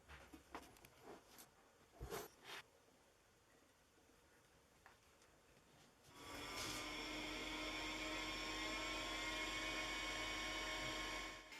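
The hard drive of a Compaq Portable III, under repair after its spindle was rotated by hand, spins up with a sudden rising whine and sustained hum that stays loud and steady after a few faint clicks.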